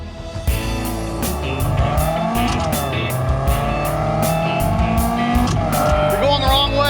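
A Ford race car revs and shifts through its gears while driving on a track, the engine steady and loud throughout, with a rising whine near the end.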